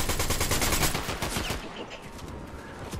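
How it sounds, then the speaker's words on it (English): Rapid automatic gunfire in Fortnite, a fast burst of closely spaced shots that fades into scattered, more distant shooting, with no voices over it. "I'm being shot at, as always."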